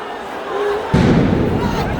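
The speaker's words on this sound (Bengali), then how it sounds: "দফায় কিন্তু সাউন্ড গ্রেনেড নিক্ষেপ করা হচ্ছে" A sound grenade thrown into a street protest at Shahbag, heard as a sudden loud thump about halfway through, set over the roar of a crowd and surrounding noise.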